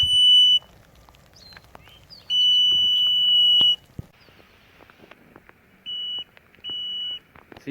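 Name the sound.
water level probe beeping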